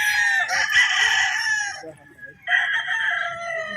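Gilmore straight-comb broodcock rooster crowing twice, loud and close, a long crow followed after a short pause by a second one.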